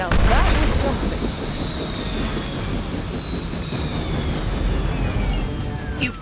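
A helicopter in the video game Marvel's Midnight Suns roars with a steady engine drone and rotor wash, loud and constant with a slowly falling whine, amid game effects.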